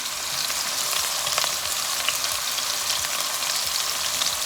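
Sausages for a Réunion rougail saucisse fry in oil in a pan, giving a steady, dense sizzle with fine crackling spatters that stays even and close throughout.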